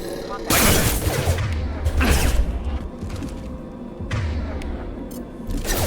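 Gunfire during a firefight in the Mass Effect video game, loud bursts of shots and booming impacts in several waves under game effects over about six seconds.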